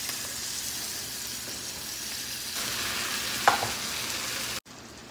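Shrimp dropped into a hot frying pan, setting off a steady, close, hissing sizzle that swells partway through and keeps crackling, with no talking.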